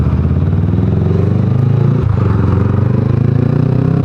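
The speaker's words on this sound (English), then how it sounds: "You don't often see a tractor on the motorway, do you?" A tractor drives along a motorway, giving a loud, steady, close engine drone with a rumbling clatter throughout and a brief dip partway, with no talking.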